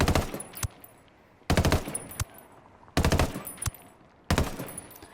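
An MK-17 rifle in Ghost Recon Wildlands fires four separate bursts of rapid shots at long range, each sharp volley ringing out with a tail of echoes before the next.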